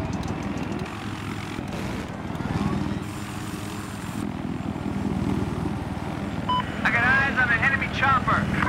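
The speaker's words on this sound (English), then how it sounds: "I spotted an enemy helicopter!" An enemy helicopter in Rainbow Six Siege drones with a low, steady rotor rumble under the game's noise, and a voice briefly talks over it toward the end.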